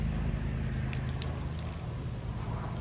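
Wet alpaca fleece is squeezed by hand to press out dirty scouring water, giving soft squelching and faint wet crackles against a low, steady background hum.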